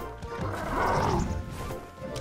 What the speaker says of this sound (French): Oh il y a un cheval.